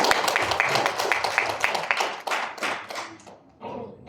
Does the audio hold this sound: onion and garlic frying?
no